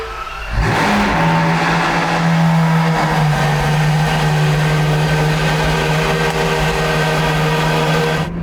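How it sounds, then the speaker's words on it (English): A Novitec-tuned Ferrari 812 GTS N-Largo V12 cold start: the engine fires up loudly and settles into a loud, steady high idle, droning continuously close by with no voices. "we had the cold start for the N-Largo, and you can hear the V12 starts off really loud"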